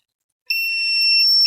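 A multimeter's continuity beeper sounds during a short-circuit check on an RX 6600 8GB graphics card under repair, starting after a brief silence with a single steady high-pitched tone that holds to the end.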